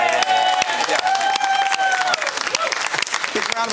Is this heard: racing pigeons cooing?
no